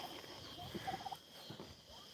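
Turkeys gobble faintly in a yard, a short burst of warbling calls in the middle over a quiet background hiss.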